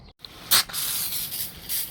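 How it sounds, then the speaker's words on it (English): A garden hose spraying water over an old bed being made into a garden bench outdoors: short bursts of hissing spray, close and fairly loud, starting and stopping in quick succession. "I'm now just going to get the hose, give it another spray down"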